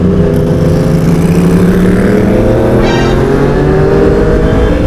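A Yamaha R1 motorcycle engine revving on the road in Malta, a loud close drone whose pitch climbs steadily as it accelerates, continuous and filling the whole stretch.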